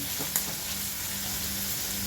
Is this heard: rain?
no